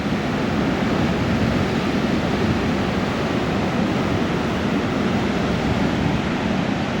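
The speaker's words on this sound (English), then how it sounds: "there's quite a bit of surf on the other side. Kind of see it breaking over" Ocean surf breaking on a beach at the mouth of the Klamath River in Northern California, a continuous dense roar of waves with steady wind noise and no distinct individual breakers.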